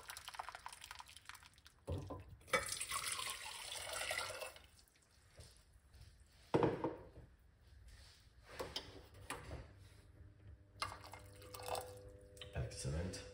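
Hot water is poured into a cup for a simple cinnamon tea, making intermittent splashing and trickling with drips and light clinks, fairly quiet, while a person talks over it.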